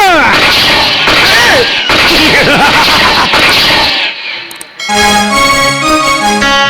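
Loud gunshot sound effects and crashing bangs ring out during a Kannada village stage play, harsh and dense, then a brief dip before a burst of tonal music, with no voices.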